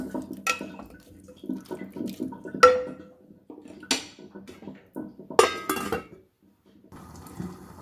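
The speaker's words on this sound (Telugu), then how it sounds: "బియ్యం వేసాక ఒకసారి మంచిగా దీన్ని కలిపేసుకొని మూత పెట్టి ఉడికించుకుందాం" Rice for bagara rice stirred in a pot and covered with a lid, with a steady scraping stir broken by several sharp metallic clinks and a final clatter.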